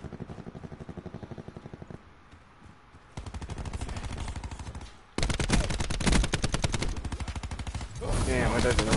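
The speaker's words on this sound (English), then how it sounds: "All the guns sound like popcorn." Gunfire from the video game Call of Duty: Black Ops 4 comes in rapid automatic bursts that grow louder in stages, dense and close. Some talking is also picked up.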